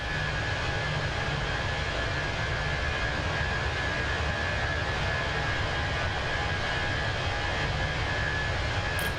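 Airbus A319 jet engines in the Microsoft Flight Simulator 2024 game give a steady, even whine and rumble throughout, constant and alone with no talk.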